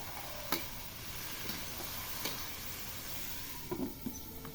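A vegetable curry with turmeric cooking in a pan, a continuous soft sizzle broken by a few sharp clicks and scrapes of stirring, no talk.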